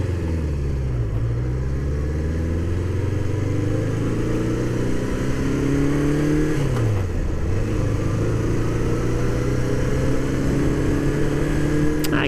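A 1981 Honda CB650 cafe racer engine screams at high RPM, loud and close, rising through gears with brief dips at each shift, then sustaining a steady high-pitched howl.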